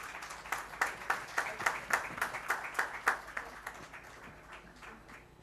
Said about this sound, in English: Ladies and gentlemen, please give it a big round of applause.